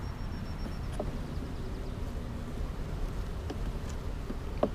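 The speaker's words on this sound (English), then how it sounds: "It scared that bee away." Honey bees hum steadily around an open beehive during an inspection, a continuous close buzz with faint passing clicks from handling the frames.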